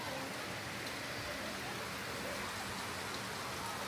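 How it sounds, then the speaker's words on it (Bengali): Heavy rain from a sudden storm pours down in a dense, unbroken roar of drops drumming on surfaces, loud and constant from start to finish. "এখন এই ঝড় বৃষ্টি আইসা কি হয়ে গেল"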